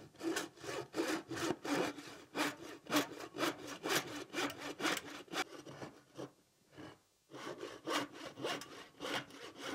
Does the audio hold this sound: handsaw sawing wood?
yes